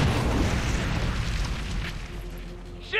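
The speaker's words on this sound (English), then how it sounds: "Oh, he's got the flame grenade." A flame grenade explodes in XCOM 2, a loud, deep rumbling blast that fills the opening and slowly fades into a crackling roar of fire, ending with a brief sharper sound.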